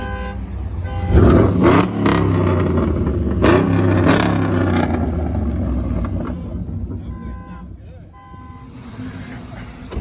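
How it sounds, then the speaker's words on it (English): A car with a modified, louder exhaust revs hard and close by. Loud, rasping bursts of engine noise swell and fall, then settle into a throbbing idle toward the end. "That's my car. Keep revving."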